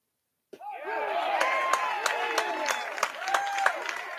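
Crowd at a high school baseball final between St. Joe's and St. Mary's, applauding and cheering after a moment of silence, with scattered sharp claps and voices mixed in, moderately distant and continuous.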